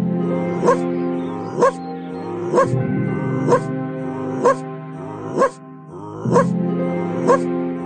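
Dogs bark repeatedly in sharp yips and bow-wows, roughly once a second, close and loud over a steady tonal background with some whimpering.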